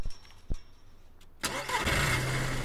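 A car engine in a video game cranks and catches about halfway through, then settles into a steady mid-pitched idle after a few faint clicks and quiet shuffling.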